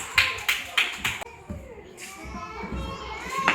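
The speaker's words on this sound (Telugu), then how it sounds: "very good claps" Classroom children clapping in unison during a ball-throwing aiming activity, four sharp rhythmic claps close by, followed by children's chatter and voices.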